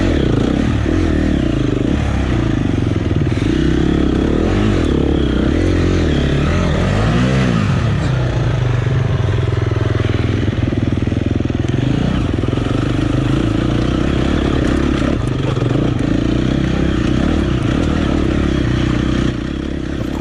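Four-stroke dirt bike engine running loud and steady while riding through slow technical terrain, with a constant drone, one brief rev-like swell, and some clatter and scraping.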